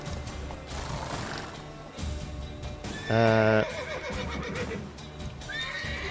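A horse in The Witcher 3: Wild Hunt gives one loud, shuddering whinny over steady game music and ambient noise, with fainter horse sounds before and after.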